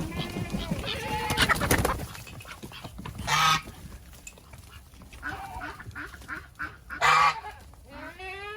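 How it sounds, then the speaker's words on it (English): A goose honking in a farmyard in Rio Rancho, New Mexico, with loud honks coming in a few separate bursts amid other faint bird calls and a brief stretch of background noise. "What's up, Goose?"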